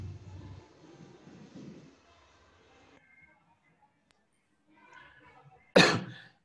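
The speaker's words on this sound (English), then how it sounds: "Sorry, I'm just coughing." After quiet murmuring and near silence, a single sharp, loud cough bursts out close by, followed by a brief tail of breath.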